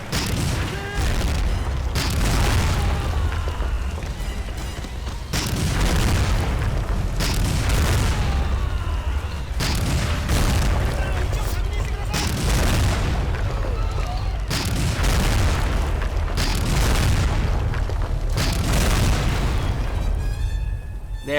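Tank cannon blasts and heavy explosions in the WWII Pacific shooter Medal of Honor Rising Sun, booming loudly in a repeated rhythm every couple of seconds over dense battle rumble.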